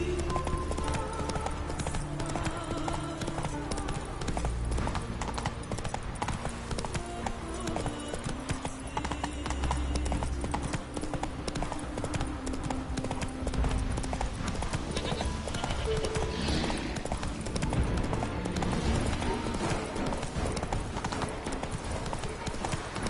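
Horse hooves clip-clop in a steady rhythm, close and loud, under constant broadband noise throughout, with possible faint voices mixed in.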